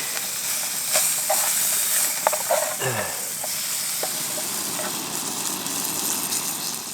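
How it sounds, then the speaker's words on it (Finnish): Fish sizzles in a small pan on a camp stove in the Kaldoaivi wilderness of Finland, a loud, steady frying hiss broken by scattered utensil clinks and scrapes against the pan, close by and without talk. "Mä en tiedä miten minä tämän paistan vaan kun tämä pannu on niin pieni."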